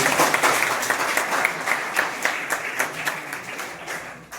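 Applause from a crowd at a school quiz competition, loud at first and tapering as the clapping thins out, with no speech over it.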